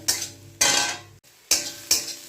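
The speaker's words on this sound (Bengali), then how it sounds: "হলুদটা দিয়ে কষিয়ে নেবো ভালো করে ভালো করে কষিয়ে নিই আমি" Spice masala with turmeric and red chili powder stirred and fried in a pan: four close scraping strokes of a spatula against the pan, each a short gritty burst, with quiet gaps in between.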